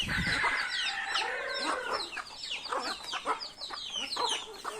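Several chickens cluck and squawk close by in an irregular, busy chorus, with overlapping calls throughout.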